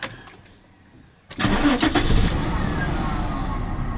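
An old cheap Jaguar car, left sitting on old gas, cranks and catches, its engine firing up loudly after a quiet pause and settling into a steady, slightly lumpy idle close by.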